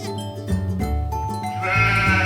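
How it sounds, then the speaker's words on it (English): Goats bleating loudly and close, long wavering calls that overlap one another, set against a steady backdrop of music. "Here are goats"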